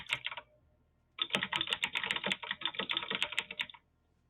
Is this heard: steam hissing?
no